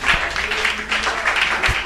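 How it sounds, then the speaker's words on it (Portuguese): A church congregation claps together during a Pentecostal service, a steady dense patter of many hands with a couple of low thumps, fairly loud and continuous. "Palmas para Jesus, se assente"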